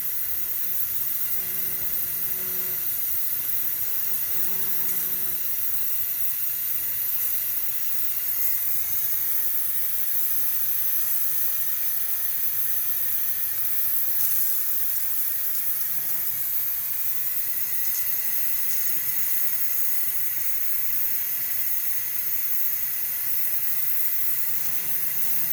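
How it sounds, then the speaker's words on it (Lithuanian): A pressure cooker hisses steam in a steady, unbroken high hiss that runs close and fairly loud, alone with no voices. "Pradėjus garam eit ir švilpt, greitpuodžiu švilpt"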